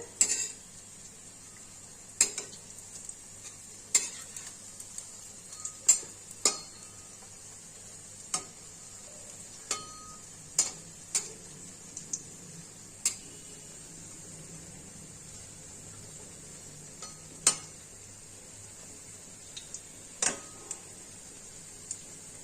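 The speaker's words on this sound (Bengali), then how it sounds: "অল্প আছে ভাজতে লাগবে বেশি আঁচ দিলে পরে একবার করে এইভাবে উল্টে দিয়ে এদিকেও শ্যাক লাগবে" Drumstick flower fritters frying in a pan with a steady soft sizzle, broken by scattered sharp clinks and taps of a utensil against the pan as pieces are turned, close and fairly quiet, no voices.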